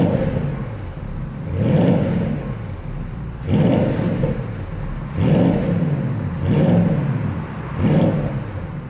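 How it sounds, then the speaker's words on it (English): Porsche Panamera hybrid with a V8 engine, set to Sport Plus, revved repeatedly while parked: five swelling, fairly muted rev blips at an even rhythm, each rising and falling away to a steady idle between them. "We'll give it some revs as well in Sport Plus."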